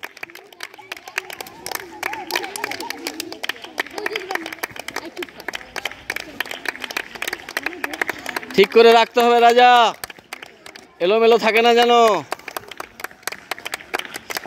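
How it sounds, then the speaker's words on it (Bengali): Children clapping steadily and rapidly during a recreation game race, a dense patter of many hands throughout, with an adult calling out instructions and a loud sung or shouted voice breaking in twice near the end. "হাততালি দাও তোমরা, দিতে থাকো"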